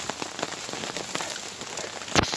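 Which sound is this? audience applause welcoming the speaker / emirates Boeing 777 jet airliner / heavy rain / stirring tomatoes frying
heavy rain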